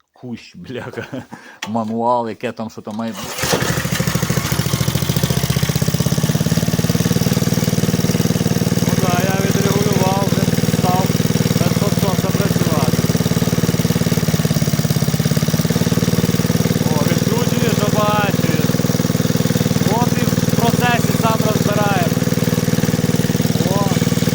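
A Kirsch petrol generator under repair is started and keeps running with a loud, steady, close-up engine drone, while people talk over it.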